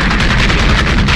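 Heavy gunfire meets 101st Airborne troops as they enter a house in the raid on Saddam Hussein's sons: a dense, loud, continuous barrage of shots with no pauses or voices.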